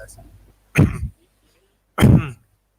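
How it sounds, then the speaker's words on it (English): Two deep, forceful deliberate coughs spaced about a second apart, close up, after a faint murmur at the start, made to give a saliva sample for a COVID-19 antigen self-test. "just deeply cough 3 to 5 times"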